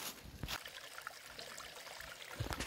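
A small feeder creek in woodland, near where it meets a larger branch, trickles softly and steadily, faint and close, with a few brief louder splashes and no talking.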